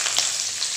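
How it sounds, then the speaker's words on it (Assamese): Onion and green chilli frying in a wok give off a close, steady, hissing sizzle that runs without a break through a brief moment. "এতিয়া মই পিঁয়াজ আৰু জলকীয়াখিনি ইয়াত ভাজি ল'ম"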